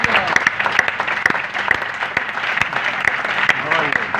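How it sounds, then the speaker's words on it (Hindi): Applause from a church congregation, dense clapping with sharp individual claps standing out, moderately loud and continuous throughout, a faint voice now and then underneath. "एक बार जोरदार तालियां बजा दीजिए"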